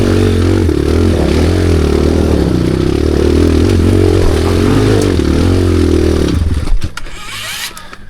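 A motorcycle labours up a steep, bumpy hill, its engine droning loud and steady with low harmonic pitch shifts for about six seconds before abruptly cutting off, leaving faint rustle.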